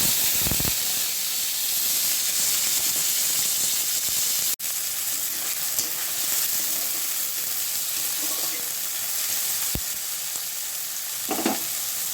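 Grated onion, tomato, green chilli, ginger and garlic sizzle in hot frying oil, a steady close hiss throughout with a few sharp clicks and scrapes, no voices.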